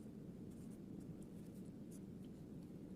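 A pen writing on paper during a Class 10 maths lesson, a steady continuous scratching that runs the whole time, close and fairly quiet, with no talk over it.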